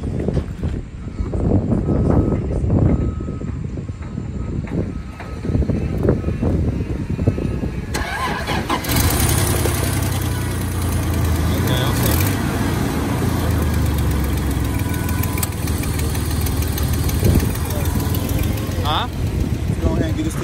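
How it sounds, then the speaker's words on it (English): A 1993 Dodge Ram stick-shift truck turns over and fires up for its first start, settling into a loud, steady idle that runs near and continuous, with people talking over it throughout. "We're about to get the first start on this joint"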